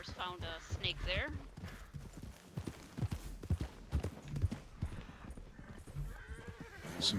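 Steady clip-clop of a video game horse's hooves walking at a relaxed pace, with a brief whinny near the start, all under continuous talking.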